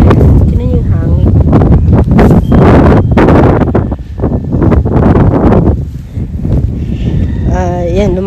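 Strong wind buffets the microphone in heavy, continuous gusts, with a voice speaking over the roar.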